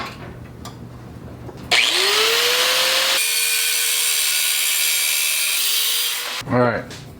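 A power tool cutting back a brazed metal cigarette lighter mount for a Honda motorcycle, one loud continuous whining cut lasting several seconds, with a rising pitch at the start and a short tail at the end.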